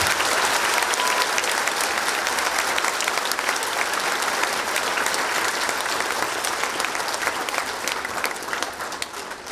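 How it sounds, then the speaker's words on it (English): Audience applause at a middle school Veterans Day celebration honoring veterans, a steady, dense crowd clapping sustained for about nine seconds and easing slightly near the end, with no talk over it. "Please give a round of applause for the veterans that are here with us today"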